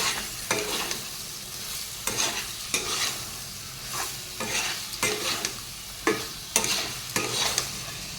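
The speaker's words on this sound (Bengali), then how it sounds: "জল দিয়ে দিয়েছি, ভালো করে একটু কষিয়ে নিলাম।" Curry with fried cumin powder and a splash of water being stir-fried in a pan, a soft steady sizzle broken by repeated scraping strokes of a spatula about once a second, close and fairly quiet, with no talking.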